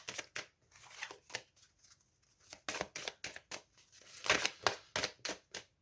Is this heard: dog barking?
no